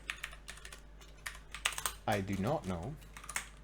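Quick bursts of typing on a computer keyboard, soft irregular clicks near the mic, with someone talking over part of it.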